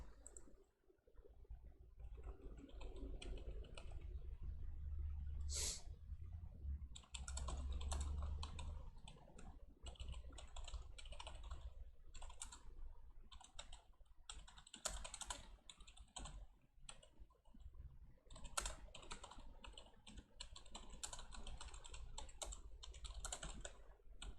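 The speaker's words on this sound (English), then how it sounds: "Let me just type into the Discord chat." Close typing on a computer keyboard during a Plants vs Zombies match session: quick irregular bursts of key clicks over a low background hum, with short gaps between words, and no speech.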